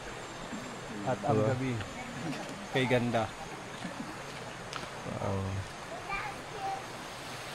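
A river flows steadily beside a mountain campsite, a constant rushing wash that runs under intermittent talk from people nearby.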